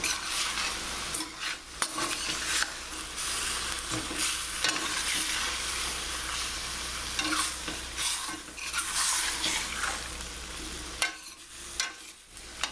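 Chicken sizzles in a pan with wine and lemon for a Mediterranean-style dish, a continuous close frying hiss with stirring scrapes and brief utensil knocks.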